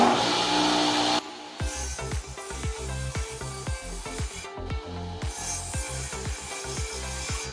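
A sawmill blade cuts through a heavy weathered timber, first as a loud steady rush, then as a rhythmic grinding, rasping pulse with harmonic whine, close by and without talk.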